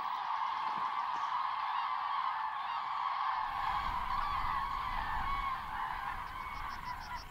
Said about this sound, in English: Cranes fly in from the south.